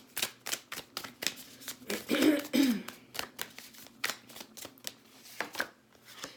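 Rapid, repeated tarot card shuffling with crisp riffling bursts in a steady rhythm, close and fairly quiet, plus a brief low vocal sound partway through.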